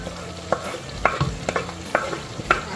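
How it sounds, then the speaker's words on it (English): Chopped onion and tomato fry together in a pot, a steady sizzle broken by spoon scrapes and knocks about every half second, close and fairly clear. "Now this is time to transfer our onion to the tomato and fry for a little while."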